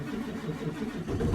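Ford Powerstroke diesel engine cranking and catching, a low rumbling churn that swells louder toward the end, heard close without talk.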